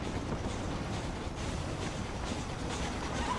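A train in the video game Red Dead Redemption gives a steady, dense rolling rumble with faint rattling that runs unbroken and fairly loud throughout, with no voices over it.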